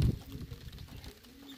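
Racing pigeons coo softly at the loft on a rainy race day, a few low murmuring calls close by with faint patter around them.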